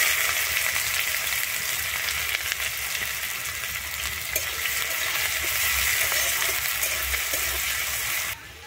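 Chopped onion hits hot oil already fried with whole spices (cardamom, cloves, cinnamon), giving a loud, dense, steady sizzle that runs throughout and cuts off abruptly at the end, with no voices.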